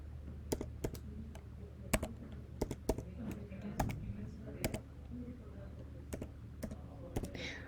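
Typing a MacBook serial number on a keyboard, heard as scattered, close key taps in short irregular clusters over a low steady background hum.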